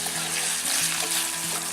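Chicken cooking in a pan with red chili powder and garam masala, a steady close sizzle and frying hiss with soft scraping of stirring, heard alone without talk.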